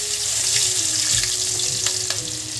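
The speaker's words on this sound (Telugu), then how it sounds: "బ్రౌన్ కలర్లో వచ్చేదాకా ఆనియన్ని వేయించుదామండి." Chopped onions frying in oil with cinnamon and cloves make a steady, close, hissing sizzle with a few faint clinks of stirring. No one speaks.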